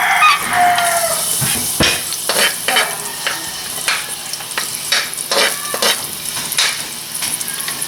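Garlic sautés in hot cooking oil in a pan, a steady bright sizzle with repeated scraping and stirring clatter throughout, close and fairly loud with no talking.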